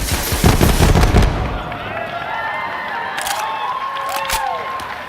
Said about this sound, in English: But if we switch our alternate firing modes, we fire off micro missiles.